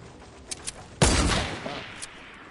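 A sniper rifle shot in the Fortnite video game, fired at a building near a gas station: one loud, sharp crack that tails off with a reverberant decay, with a few faint clicks and taps before and after.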